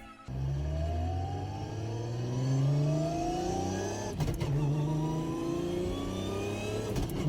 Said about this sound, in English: It's got the beautiful purr of an RB26 engine.